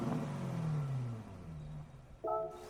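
An old Corvette C2 in the video game Gran Turismo 7 gives a fairly faint engine tone that drops away, then a sudden sharp rev near the end, with no talk.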